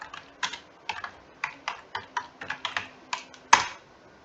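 Fingers type a command on a computer keyboard, a quick irregular run of about a dozen crisp, close key clicks that ends in one sharper, louder press, like a firm hit on the Enter key.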